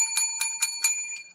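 A small bell is rung as a reward, four or five quick bright rings in an even rhythm, clear and close with no other sound.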